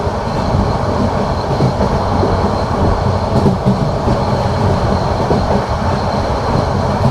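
The Cox's Bazar Express passenger train runs on rails from Chattogram to Dhaka, a loud, steady rumble with rattling carriages and a continuous rolling roar heard from inside.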